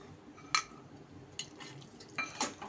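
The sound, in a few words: mixing curd into chicken pulao with a spoon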